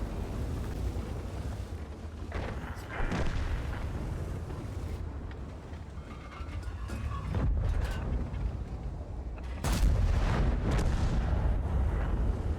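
Heavy tank cannon fire in a video game with a German Tiger-Maus heavy tank, several deep booming blasts spaced apart over a rumbling engine and battlefield din, loud and close with no talk.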